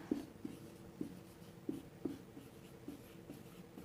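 A marker taps and squeaks across a board while numbers are written, short strokes in an irregular run, faint and close in an otherwise quiet room.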